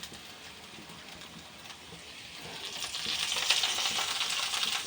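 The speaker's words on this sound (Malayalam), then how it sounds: "ഇനി നമുക്ക് കറിവേപ്പില ഇട്ട് കൊടുക്കാം" Curry leaves drop into a pan of dry-frying kadukka (mussels), and the low frying hiss swells into a brighter, louder sizzle that holds steady near the end.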